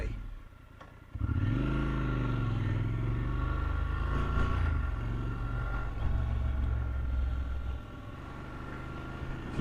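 Triumph Scrambler 1200 XC motorcycle on a road ride, its engine a steady droning rumble with a rise in revs, heard from the rider's position under wind noise while a rider talks over it.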